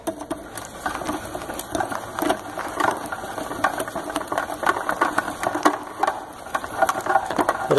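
Digital leveling system being wound back into its reel, a fast rattling ratchet-like clicking that runs continuously and close, with no talk.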